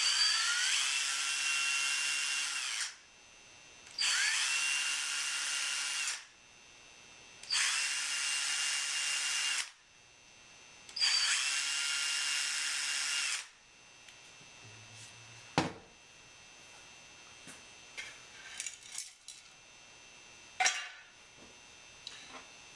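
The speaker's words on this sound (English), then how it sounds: "I'm going to need to drill some holes to mount the battery box" A power drill fitted with a depth stop bit bores holes in a bass guitar body to mount a battery box. Four loud, evenly spaced bursts of whining drilling are followed by quiet handling clicks and taps.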